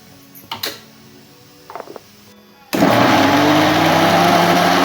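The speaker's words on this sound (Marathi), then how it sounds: "आता आपण टमाट्याची पेस्ट बनवून घेणार आहोत" A few faint clicks and knocks, then a mixer grinder starts up abruptly, grinding tomatoes into paste, and whirs loudly and steadily to the end.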